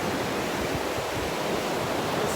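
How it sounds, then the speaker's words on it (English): Ocean waves break and wash continuously onto a beach, a steady broadband roar of surf filling the whole stretch with no voices. "I could stare at these waves for hours, not say a word, and just zone out."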